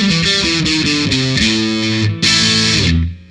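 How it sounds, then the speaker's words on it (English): A distorted electric guitar through a Behringer TM300 distortion pedal plays a short run of notes with a bright, fizzy, trebly tone, ending on a held chord that cuts off. "It's a really trebly kind of distortion"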